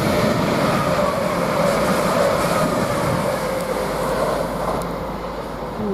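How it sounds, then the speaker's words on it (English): A CrossCountry train runs through Peterborough station on its Sunderland to London King's Cross service, giving a steady, loud rolling rumble with wheel and rail noise that holds throughout and eases slightly toward the end. "Now we've got a cross-country coming through from Sunderland to London King's Cross"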